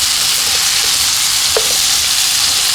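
Bean sprouts and pork stir-fry in a hot pan with oyster sauce and fish sauce, a loud, constant hiss of sizzling oil with a brief clink of a utensil partway through.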